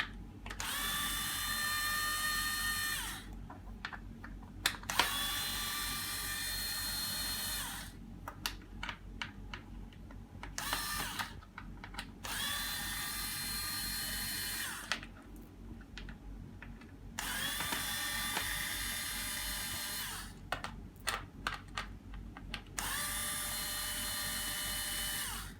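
A power drill backs screws out of the center of an UPPAbaby Cruz stroller in about six separate bursts of high whirring, each lasting a couple of seconds and separated by clicks and handling noise.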